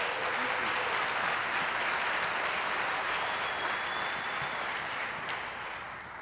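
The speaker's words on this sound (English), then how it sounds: "Thanks for the applause." Sustained audience applause at a breakfast gathering with city mayors, thick and even throughout before easing slightly near the end.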